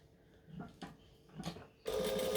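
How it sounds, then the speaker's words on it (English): A home sewing machine runs in short stitching bursts with back stitches between them, then settles into a longer, louder continuous run of rapid mechanical whirring at close range. "Stitch, back stitch. And back stitch. Lots of back stitching."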